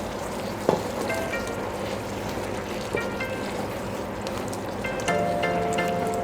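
Spaghetti being stirred into a pan of sizzling sauce: a steady close frying hiss continues throughout, with a few soft clinks and scrapes as the pasta is turned.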